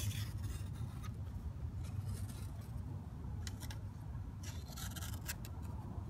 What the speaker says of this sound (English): You just gotta love these sharpeners.